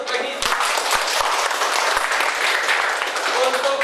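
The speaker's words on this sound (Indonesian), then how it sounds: "Kita beri aplaus untuk Peggy." Classroom applause for a student named Peggy, a dense steady clatter of many hands clapping close by for about four seconds, with faint voices mixed in.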